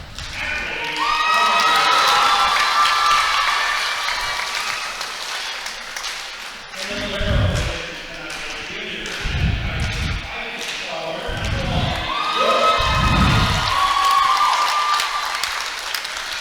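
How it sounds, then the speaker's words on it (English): A high school volleyball crowd at the home team's introduction cheers and applauds in a gym, with sustained shouts and whoops and bursts of clapping and thuds rising and falling across several waves. "Pretty good crowd here on this side that I'm on."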